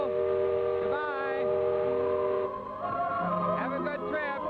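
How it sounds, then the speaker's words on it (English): A Disneyland steamboat sounds its whistle as the boat departs on opening day, a loud sustained multi-tone blast under a voice that speaks briefly. "There goes the whistle."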